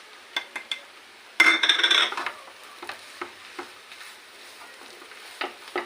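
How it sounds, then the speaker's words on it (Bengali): Ground spice mix tipped into a pan for a samosa filling and stirred in, giving a brief burst of sizzling followed by scattered scraping stirs of a spoon, close and fairly quiet, with no talking. "গুঁড়ো মশলাগুলো সব একসাথে মিশ করে দিয়ে দিচ্ছি"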